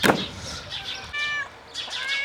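Two or three short meows from a cat nearby, separated by brief pauses over quiet background noise.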